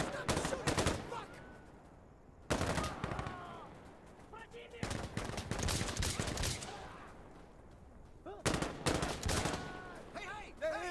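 Bursts of rapid automatic gunfire and single shots in Insurgency Sandstorm combat, loud and close, coming in several clusters across the stretch, with shouted voices mixed in among the shooting.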